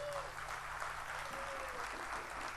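A live audience claps steadily for a music arranger at a sangeet evening, with a dense wash of hand claps running throughout and a low tonal hum of music or voices underneath.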